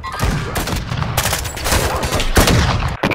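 Rapid gunfire from a sniper-focused shooter game, loud and close, with several sharp bursts and crackling shots packed into a few seconds, mostly without talk.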